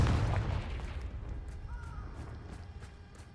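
Confringo blasting spell in Hogwarts Legacy, a single heavy boom at the start that decays into a rumbling tail with faint ringing debris after it.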